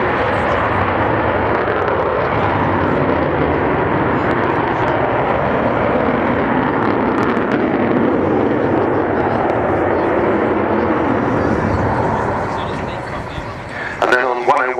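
An Avro Vulcan bomber, XH558, roars loudly and steadily overhead at an air show, a dense broadband jet rumble that eases slightly near the end.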